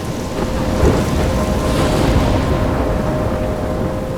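A heavy thunderstorm rages in the video game Life Is Strange, with dense, continuous rain hammering surfaces and deep rolling thunder rumbling underneath, loud and steady throughout with no voices.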